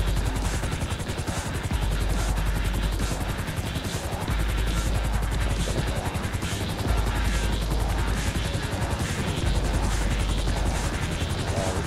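A helicopter comes in to land in GTA V Online: a loud, steady rotor thump with dense chopping noise, rising and falling slightly, and scattered gunfire mixed in.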